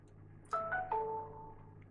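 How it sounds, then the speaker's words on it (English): A phone notification chimes once during a tabletop game session, a short bright sequence of three rising then falling electronic tones that fades over about a second. The room is otherwise quiet. "Excuse the phone notification."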